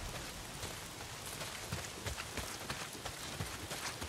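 Heavy rain pours down in the open-world game Days Gone, a dense steady patter of drops on surfaces with scattered sharper splashes, fairly quiet and constant throughout.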